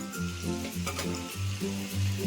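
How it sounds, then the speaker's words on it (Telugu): Cut potato pieces sizzle and fry in hot oil, a steady close crackle with a low pulsing hum running beneath it and no talking. "కట్ చేసుకున్న ఈ ముక్కలు మనం ఈ నూనెలో వేసుకోవాలి"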